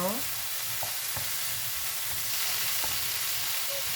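Chicken breast samosa filling frying in a pan over lowered heat gives a steady, close sizzling hiss that holds evenly throughout, with a few faint scrapes and light clicks from stirring.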